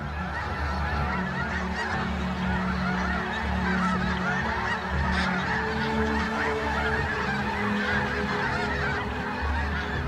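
A huge flock of snow geese honks continuously, a dense chorus of overlapping calls holding steady throughout with no voices.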